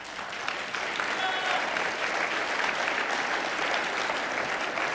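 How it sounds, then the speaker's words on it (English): Steady audience applause fills the room at a public conversation event, dense and sustained clapping from a crowd holding an even level throughout without a break. "And to surf on that applause, how much fun can we have supporting that?"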